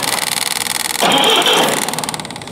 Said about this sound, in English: might see if we can crank it over and see if we can see any spark